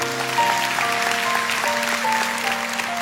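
A church congregation claps steadily for a few seconds during a sermon while sustained keyboard notes play underneath.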